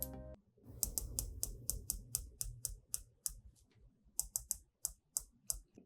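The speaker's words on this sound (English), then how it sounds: "This bezel is awesome. Nice and clicky, very tactile, and very precise." Sharp, crisp clicks of a rotating sandblasted ceramic bezel on a Phoibos Leviathan DLC 500m dive watch, a dense run of ratcheting clicks followed by a few spaced single clicks, close up and alone.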